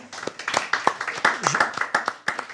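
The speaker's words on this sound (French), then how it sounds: "on va t'applaudir." A small audience at a live talk claps hands for a few seconds, a dense patter of applause, with a voice speaking briefly over it.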